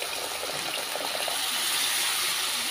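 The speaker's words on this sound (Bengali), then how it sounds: "এইবারে এতে আমি পরিমাণ মতো জল অ্যাড করে দেব।" Water pours steadily into a pan of katla fish curry masala, a continuous gushing hiss that stays even and fairly close for the whole moment, with no talking.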